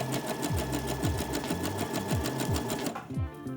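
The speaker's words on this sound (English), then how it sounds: "sew the elastic to the waistband" A close sewing machine hammers along continuously at a quick, even rhythm, zigzag stitching stretched elastic onto a bias-cut skirt's waistband, with brief dips in motor pitch before it slows near the end.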